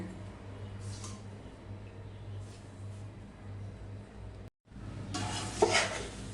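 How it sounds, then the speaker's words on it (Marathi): Hot tempering with turmeric poured over thin poha for chivda, a brief sizzle and stirring rattle in a pan after a quiet stretch, rising loudest near the end. "आता आपण पोह्यावरती गरम फोडणी घालून घेऊया"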